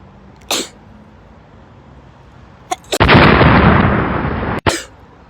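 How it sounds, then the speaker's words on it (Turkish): A sharp sneeze bursts out loudly, preceded by a couple of small catching breaths and followed by a long rushing exhale. "Hapşıracağım."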